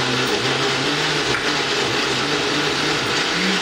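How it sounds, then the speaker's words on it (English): A blender whirs continuously at high speed blending lemon, melon and yogurt, a dense, buzzing motor drone with a slight wobble in pitch, running alone for a few seconds. "let's put our second half in the blender"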